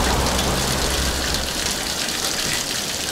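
Water from a free roadside spring gushes steadily close by, a loud continuous splashing rush that runs without a break and eases slightly toward the end, with no voices.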